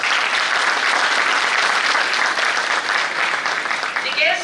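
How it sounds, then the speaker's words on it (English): A big round of applause from the audience at a national seminar, loud, dense and continuous throughout, with no other sounds standing out. "So I think all the guests here deserve a big round of applause."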